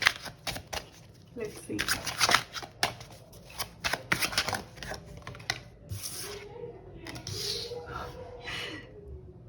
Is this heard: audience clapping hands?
no